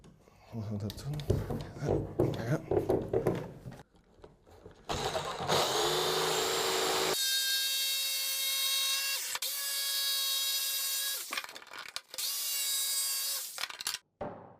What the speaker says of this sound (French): Je vais scier cette forme ovale avec une scie sauteuse